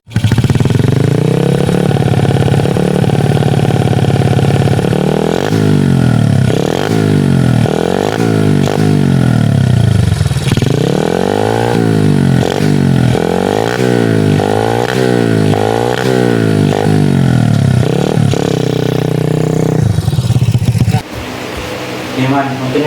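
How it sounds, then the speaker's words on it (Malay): Motorcycle engine, loud and close, revving over and over in rising and falling sweeps, with quick blips and long pulls over a rough idle, then cutting down near the end as a voice speaks briefly. "motor kita dah hidup"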